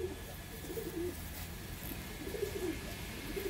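Giribaz tumbler pigeons coo softly in a few repeated, low, throaty phrases, fairly quiet against a faint background hiss.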